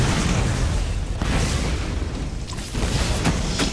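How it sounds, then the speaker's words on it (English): Vehicle cannons fire in the shooter game Borderlands. Dense, loud booming blasts roll on without a break, with sharp crackling hits layered on top. "even though these cannons look like they're pretty epic and would destroy just about anything"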